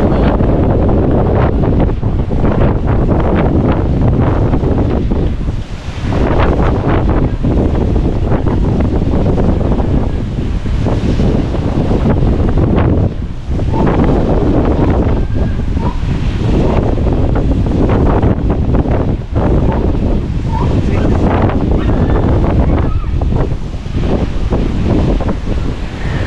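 Super Typhoon Uwan's winds at landfall in Batangas roar and gust loudly against the microphone without letup, a heavy, constant buffeting with surging peaks.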